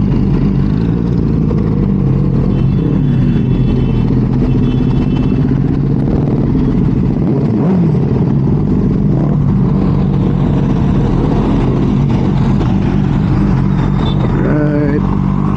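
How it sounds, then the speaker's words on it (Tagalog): Rush hour road traffic surrounds a motorcyclist, with a continuous loud mix of engine rumble and passing vehicles, brief horn beeps near the end, and wind buffeting throughout. "Traffic na guys,"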